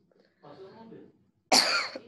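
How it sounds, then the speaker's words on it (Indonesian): A single sharp, close cough bursts out after a quieter stretch of murmured voice in a classroom computer recording session. "batuk"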